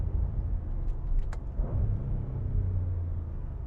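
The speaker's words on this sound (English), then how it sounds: "Listen to the downshift." A 2025 Audi SQ7 luxury SUV engine heard from inside the cabin as a low rumbling drone that shifts pitch partway through during a downshift, steady and moderately loud with no talking.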